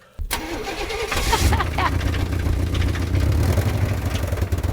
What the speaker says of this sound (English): The throttle seems to be stuck.